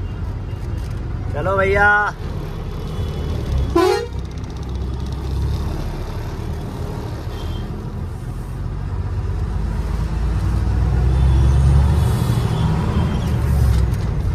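At Azadpur wholesale vegetable market in Delhi, among ginger and tomato trucks, two short horn honks sound close together early on, then traffic rumbles steadily and grows louder, with a brief spoken call.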